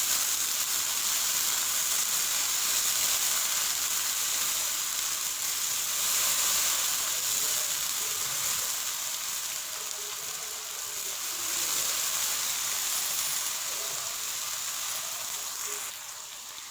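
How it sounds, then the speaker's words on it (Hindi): Masala and yogurt frying in a pan for mutton yakhni pulao, a steady, close, even sizzle and hiss that runs unbroken for the whole stretch with no talk. "मसाला कर लिया मैंने अच्छे से फ्राई"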